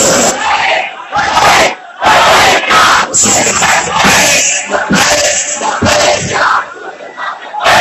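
A loud crowd chanting a religious slogan in unison at a sermon, repeated bursts of massed voices with brief gaps between, echoing as if in a large hall.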